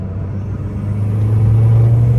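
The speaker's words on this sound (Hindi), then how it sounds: "इस बार गाड़ी को पूरा पैर दे के देखते हैं" A Suzuki Cultus with a swapped-in K24 engine accelerates at full throttle, a loud, low engine drone that rises steadily in pitch and volume, heard from inside the car without talk.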